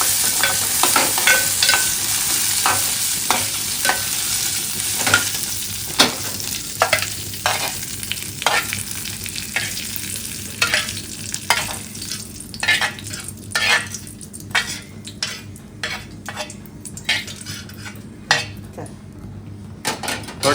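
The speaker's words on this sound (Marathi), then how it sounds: "आता आपल्याला टाकूची सुकी मिरची, हे बघा, आणि ती अशी थोडासा तेल टाकून त्याच्यात परतून घ्यायची आहे." Dried red chillies and curry leaves fried in a little oil in a pan, steady close sizzle with frequent spoon scrapes and stirring clinks against the pot throughout.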